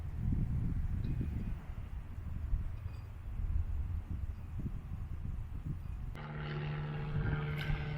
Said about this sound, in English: this park is really close to an airport, so you'll see a lot of planes flying overhead